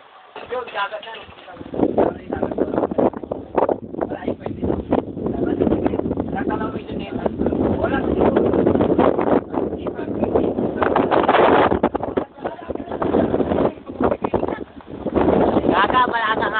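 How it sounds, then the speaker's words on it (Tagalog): Strong wind buffets the microphone in a continuous rough roar during a typhoon in the Sierra Madre, with muffled voices talking underneath. "malakas ang hangin"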